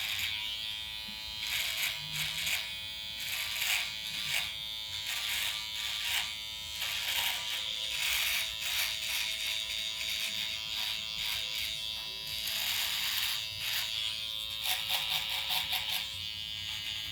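Electric trimmer shaping and lining up a beard at a barbershop, a steady close buzz running almost continuously with brief changes in pitch as the blade moves across the hair.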